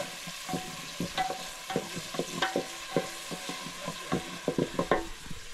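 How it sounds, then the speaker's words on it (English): Pasta stirred in a cooking pot over an off-grid village fire in rural Uganda, with irregular scraping knocks and clinks of the spoon against the pot over a steady sizzling hiss. "I had macaroni or spaghetti, so it is what I'm trying to cook here."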